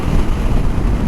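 A motorbike cruising at 60 miles an hour, a constant low rumbling roar of engine and wind buffeting with no break.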